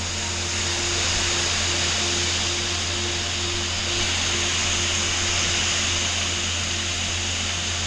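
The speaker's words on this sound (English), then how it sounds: "Water's just rolling down through there. Beautiful waterfall." A small hidden waterfall at Bethel Spring Nature Preserve in North Alabama, with water rolling down over the rocks as a steady, even rush of white noise that holds from start to end, fairly close, with no voices.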